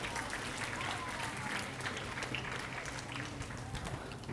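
Sustained applause from a school audience at a student council investiture ceremony, a continuous even patter of many hands clapping, heard at a moderate distance without pause.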